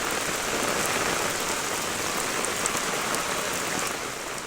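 Heavy monsoon rain pours down steadily in a hilly agency area, a dense, loud, unbroken hiss of drops striking surfaces throughout.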